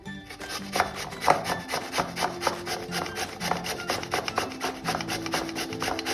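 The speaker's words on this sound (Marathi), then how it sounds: "आता आपण हे बीट जे 10 मिनिट उकळून घेतलंय ते आता आपण किसून घेऊया किसणीवरनं।" Boiled beetroot rubbed against a metal kitchen grater, giving a steady run of quick, close rasping strokes with an even back-and-forth rhythm.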